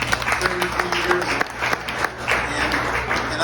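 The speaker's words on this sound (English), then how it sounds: "let's give him a round of applause" Applause from diners at a New Delhi restaurant's 33rd anniversary gathering, a steady patter of many hands clapping at moderate distance, with some room murmur mixed in.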